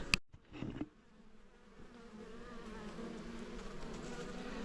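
A low, continuous buzz of many honey bees at a hive on heathland swells gradually after a couple of brief knocks at the start, filling the background at a moderate level.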